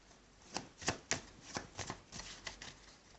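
A tarot deck is cut and shuffled close by in a quiet room, giving a series of soft, crisp riffling bursts at an irregular rhythm with no talking.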